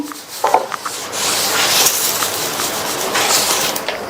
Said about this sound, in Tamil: அதுல ஒரே ஒரு டிராப் மட்டும் எண்ணெயை விட்டுட்டு நல்லா இந்த மாதிரி தொடச்சு விட்டுட்டு